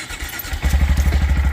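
A Honda motorcycle fitted with a Yoshimura exhaust catches after a brief starter crank and settles into a deep, fast, even thumping idle, loud and close, with no talk.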